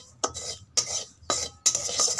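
Semolina and potato are stirred and lightly fried in a wok, heard as four sharp, evenly spaced scrapes of a metal spatula against the pan, each followed by a short rasping drag.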